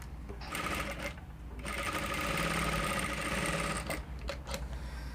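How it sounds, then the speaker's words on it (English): A sewing machine stitches fabric at a 1/4 inch seam allowance, a steady rapid whirring hum that runs for several seconds, briefly pauses, then starts again, close and clear. "I'm sewing with 1/4 inch allowance."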